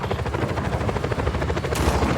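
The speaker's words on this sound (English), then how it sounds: "Helicopter inbound." A helicopter approaches in the Just Cause 4 video game, its steady rotor chop running continuously and loudly alongside rapid gunfire-like bursts throughout, with no speech.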